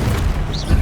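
A Depulso spell in the video game Hogwarts Legacy lands as a short, heavy, booming blast with a deep low rumble and a brief whooshing swell at the end, loud and alone.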